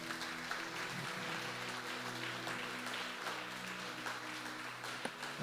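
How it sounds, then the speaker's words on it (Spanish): A church congregation applauds in praise, a soft, continuous spatter of many hands that stays fairly faint and distant over a low steady hum, with no speech on top. "Démosle un aplauso al Señor."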